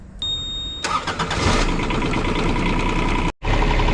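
The diesel engine of a Bobcat E10Z micro digger starts up: a short starter whine, then the engine catches and settles into a loud, steady idle. The sound briefly drops out near the end before resuming.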